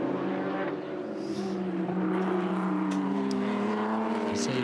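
A Porsche race car in the Porsche New Zealand Championship sweeps through the Porsche Dipper, its engine droning steadily at mid distance and shifting pitch as it carries through the corner.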